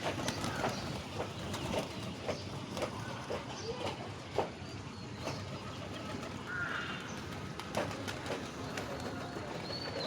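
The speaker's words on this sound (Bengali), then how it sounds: "পাশের বাড়ির খাবার কবুতরে দিয়ে দিই, আর ওরা অনেক সুন্দর করে খায়।" Pigeons fed leftover food near a house coo softly in a steady background of outdoor noise, with faint clicks and occasional flutter-like sounds, moderately distant and continuous.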